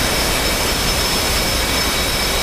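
A Hornet jet's engine roars with wind rushing past the open canopy in a naval flight video game: a loud, steady, dense rush that fills the whole clip with no break.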